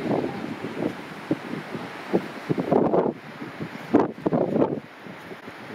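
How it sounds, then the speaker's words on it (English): Strong gusting wind buffets the microphone at the entrance to Taroko Gorge, a riverside canyon near the Pacific coast, roaring in uneven surges with sharp blasts partway through and no voices. "Super windy."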